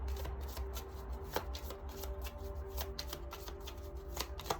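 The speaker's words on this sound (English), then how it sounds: "I'm going to get you some oracle cards from the Rana George deck." Oracle cards from the Rana George deck being shuffled by hand, a steady run of crisp, close riffling flutters and soft slaps in a quiet room, with no talking.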